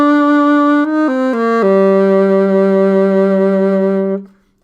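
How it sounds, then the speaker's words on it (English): A saxophone holds a few short notes, then one long steady low tone with a pulsing diaphragm vibrato. It is loud, close and solo, and cuts off abruptly. "Kind of a pulsing vibrato"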